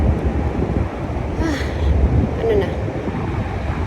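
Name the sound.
wind blowing at a bus stop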